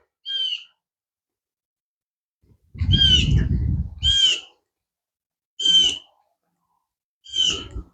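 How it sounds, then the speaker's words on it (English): A bird calls repeatedly at a historic cemetery site outdoors: five clear, whistled hoot-like calls with irregular gaps over several seconds. A low rustle or thump sits under one call, and no one speaks. "You got something to say, Mr. Bird?"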